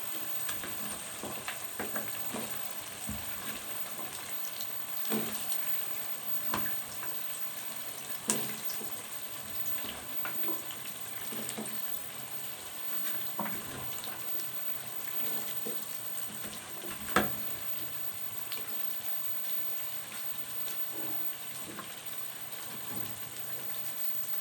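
Potatoes go into a sizzling tomato and yogurt masala, a soft even frying hiss throughout with scattered light crackles and pops, fairly faint and with no voices.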